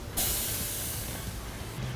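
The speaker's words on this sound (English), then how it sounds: "And what you wanna hear is that sizzle." Orange slices hitting a 500-degree grill, a sudden loud hiss that starts abruptly and holds as a steady, bright sizzle, close by with no talking.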